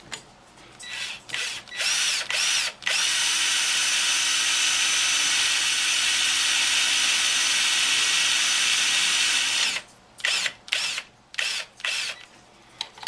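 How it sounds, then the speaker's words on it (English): A power drill bores steadily into a metal motorcycle switch housing for several seconds, bracketed by short bursts of trigger starts and stops, close and loud. "we carefully drill out the switch housing to 21/64"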